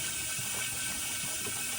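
Water rushes and bubbles out through the plumbing lines of an in-ground pool being drained for winter, a steady, hissing gush that holds at an even level throughout, close and continuous with no voices.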